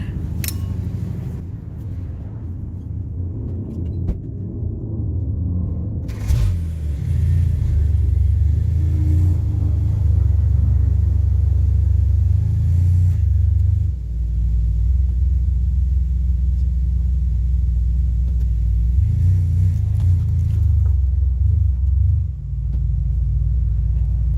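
A Ford Explorer, just after a tire change, rolling slowly with a steady, loud low engine rumble and road drone that continues throughout, with small shifts in tone along the way.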